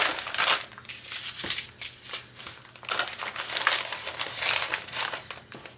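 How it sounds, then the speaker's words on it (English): Plastic packaging crinkles and crunches in bursts as it is handled close by, uneven rustling rising and falling with no voices. "I'm sorry for the crinkly noises."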